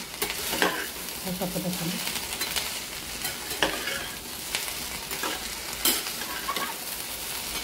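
A spoon stirs okra bhaji frying in a pan, with repeated scraping strokes over a steady sizzle while a voice speaks briefly.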